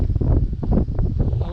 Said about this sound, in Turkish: Ama rüzgar çıktı çok kötü.